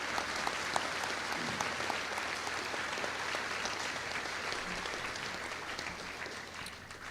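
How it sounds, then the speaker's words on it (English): Sustained audience applause at a high school Veterans Day remembrance ceremony, honoring veterans organizations and their members; steady, dense clapping from a large crowd that holds evenly throughout before tapering slightly at the end. "Please join me in a round of applause for these organizations and their members"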